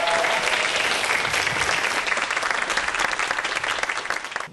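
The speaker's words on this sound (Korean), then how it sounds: "모두들 박수 치면서 교수님 감사합니다" After a lecture on parasites by a Dankook University parasitology professor, the studio audience breaks into loud, full applause. It continues steadily throughout without any speech.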